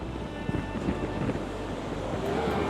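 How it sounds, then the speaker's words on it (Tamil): Sea waves washing onto a beach at a Chennai resort, a continuous close rush of surf mixed with wind noise, with no talk. "தண்ணி வருது பாரு, தண்ணி தொட்டு பாரு."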